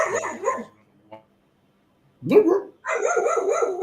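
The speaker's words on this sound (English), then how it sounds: "The dog's going." A dog barks in short, sharp bursts nearby, a couple of barks early on, a pause, then a louder run of barks toward the end.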